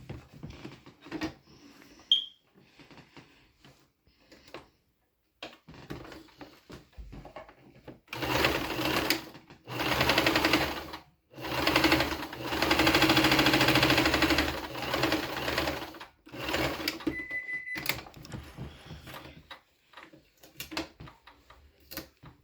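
A sewing machine stitching down a fabric corner in short bursts, a rapid rattling whir that starts and stops several times, with quiet handling clicks in the pauses between runs.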